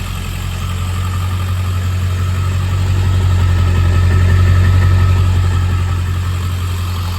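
A 7.3 Powerstroke diesel in a Ford Super Duty truck idles close by with a deep, steady low rumble that swells slightly midway and holds even throughout.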